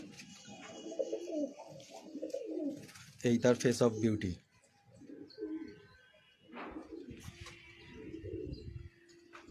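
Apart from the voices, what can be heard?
pigeon cooing in a loft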